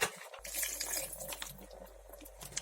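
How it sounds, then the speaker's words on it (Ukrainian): Vinegar poured into zucchini simmering in satsebeli sauce for winter preserves, a steady close liquid splash and trickle running for a couple of seconds with faint kitchen clatter. "тепер потрібно додати оцет 120 мл."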